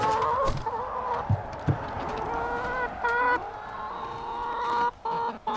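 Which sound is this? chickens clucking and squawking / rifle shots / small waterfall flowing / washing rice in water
chickens clucking and squawking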